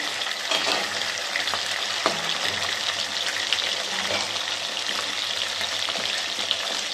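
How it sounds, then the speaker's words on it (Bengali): Fish heads deep frying in hot oil for a Bengali muri ghonto give a steady, dense sizzle and crackle that runs throughout, with a few soft clinks of a utensil partway through. "মুড়োগুলো আমি তেলে ছেড়ে দিয়েছি, এগুলো একটু ভাজা হয়ে গেছে।"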